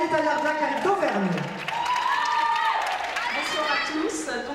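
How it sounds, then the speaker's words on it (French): Audience applause at the Miss Ronde France 2015 pageant as a contestant comes onstage; a steady wash of clapping and cheering runs throughout, mixed with music. "Applaudissez Aurélie Taillarda qui arrive d'Auvergne."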